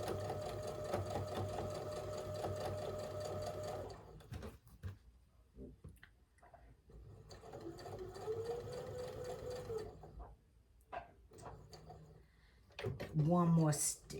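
A sewing machine stitches a quilt block, whirring loud and steady for about four seconds, then running in short intermittent bursts, with a person talking during the pauses.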